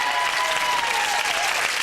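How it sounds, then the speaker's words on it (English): Studio audience applauding on a 1997 television game show, a steady, dense burst of clapping that fills the whole moment without any talk over it. "Round of applause for Dawn."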